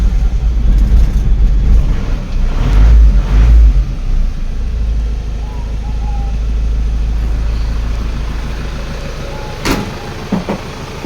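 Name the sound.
Isuzu Panther 2003 diesel pickup engine started and running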